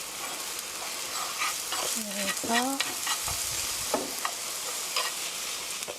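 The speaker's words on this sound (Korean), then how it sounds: "이렇게 스크램블 에그 만드는 거예요" Scrambled eggs stirred and frying in a pan for pear fried rice, with a steady sizzle and scraping stir strokes throughout; someone speaks briefly over the cooking.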